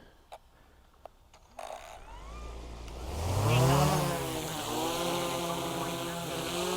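A few soft clicks, then a high whirring buzz spins up and swells into a steady drone of a DJI Mavic 3 drone's propellers, rising in pitch as it lifts off.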